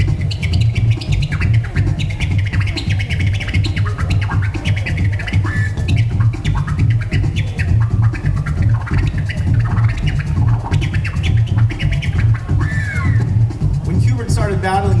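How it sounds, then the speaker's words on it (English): Turntable scratching from a DJ doing the chirp scratch, a quick bird-like chirping cut, repeated in steady rhythm over a loud looping beat, with short squeaky sweeps standing out near the end. "Another scratch during that era is called the chirp scratch."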